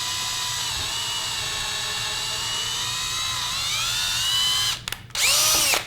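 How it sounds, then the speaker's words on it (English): A power drill with an 11/64 bit boring holes into a 1/2 inch board, a steady high whine running continuously, then briefly cutting out and starting again near the end. "now that we've got our holes laid out, we use our 11/64 drill bit"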